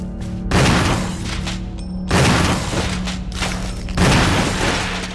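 Three loud gunshots go off in the Resident Evil remake video game, each a heavy boom with a long ringing tail, spaced about two seconds apart, with no talk.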